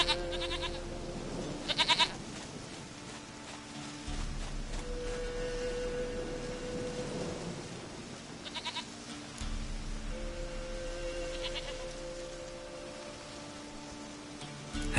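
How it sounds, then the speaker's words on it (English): A goat bleats in The Witcher 3: Wild Hunt, with a few short, nasal calls spaced out over a steady ambient game score and low drones, fairly close and with no talk. "Goat of mine, dearest, sweetest goat."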